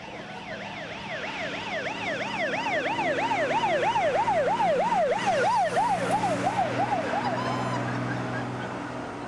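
A wailing siren rises and falls in steady rapid cycles, loud and close, with traffic rumble beneath and no talking.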